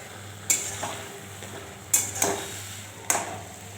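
Cooked lai greens and potato with mustard paste get stirred in a pot, a few distinct scrapes and clinks of a spoon against metal over a faint low sizzle.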